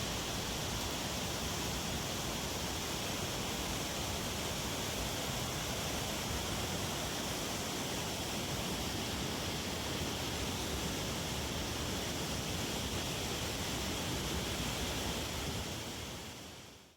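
A broad waterfall among the 4,000 Islands of southern Laos roars as a constant, dense rush of falling water, steady and enveloping with no other sounds.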